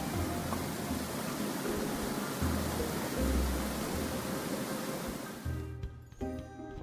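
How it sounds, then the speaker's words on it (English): Steady, loud rushing water from a waterfall in the video game Graveyard Keeper roars continuously, then drops off abruptly near the end, leaving quieter tones. "Oh, that waterfall was very loud."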